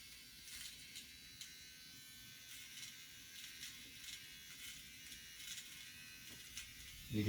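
A capsule nose hair trimmer runs with a steady, faint electric buzz for about seven seconds, humming on its own with small fluctuations and a louder bump at the very end.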